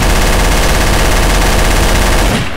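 Sustained loud automatic gunfire in Garry's Mod Trouble in Terrorist Town, one continuous rattling burst filling the whole stretch before stopping abruptly at the end.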